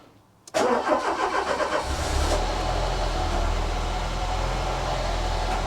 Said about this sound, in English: I will probably fire up the engine, allow it to circulate oil for a few seconds until the oil pressure light goes out